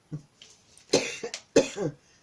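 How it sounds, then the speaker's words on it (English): Two or three sharp, harsh coughs come in quick bursts close up, separated by brief quiet breaths. "Excuse my coughing."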